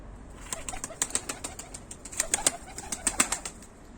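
Young tumbler pigeons close by, giving a run of quick wing flaps and claps in irregular clusters, soft to moderate, with no voices.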